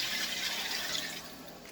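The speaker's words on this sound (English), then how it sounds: "Now I'm going to add a little bit of water." Two cups of water pour steadily into a pan for homemade chowder, a continuous splashing rush that stays close and fairly loud before easing slightly near the end, with no talking.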